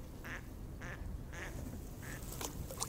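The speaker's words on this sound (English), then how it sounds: "Oh, the birds." Ducks on a spring lake quack in several short, separate calls at moderate distance over a steady outdoor background hiss, with no voices heard.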